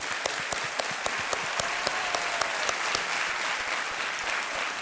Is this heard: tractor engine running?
no